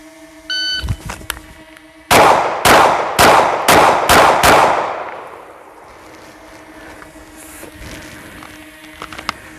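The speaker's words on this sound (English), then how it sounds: "6 rounds from the draw into the A zone as fast as you can" Six rapid pistol shots fired from the draw at 7 yards in a timed shooting drill, preceded by a shot-timer beep; loud, evenly spaced cracks with ringing decay afterward, no talking.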